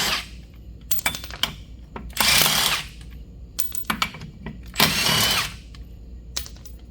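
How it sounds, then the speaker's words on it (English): A Milwaukee impact wrench removes wheel bolts from a BMW E30, with two loud, rattling bursts of about a second each, close by, mixed with clicks and clatter from handling parts. "All right, so I got my trusty dusty Milwaukee impact."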